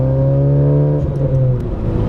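A modified Honda Civic Type R drones from its engine and exhaust in a low, steady hum with strong harmonic tones, loud and continuous from inside the car, the pitch dipping slightly partway through.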